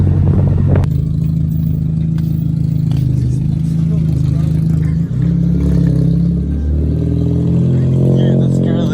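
A 2.0 VW Jetta with a full straight-pipe exhaust, its engine loud and close with a deep, rough drone that opens with a sharp rev, settles into a steady run, then climbs again. People talk over it.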